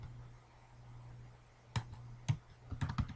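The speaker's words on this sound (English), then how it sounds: "So we type in sudo usermod and g flag" Command typed on a computer keyboard: quiet room hum, then close, crisp key clicks, a few isolated presses followed by a quicker burst of typing.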